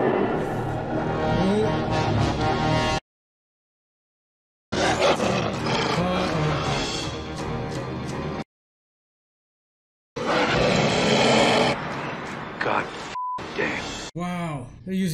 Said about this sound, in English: they're using actual wolves in this